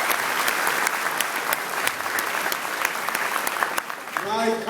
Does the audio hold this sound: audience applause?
yes